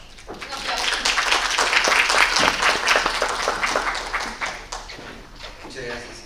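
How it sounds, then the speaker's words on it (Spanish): Audience applause at a university ethics and research conduct event, a dense wash of many hands clapping that swells and then slowly thins out, with a voice speaking over the last part. "Un aplauso"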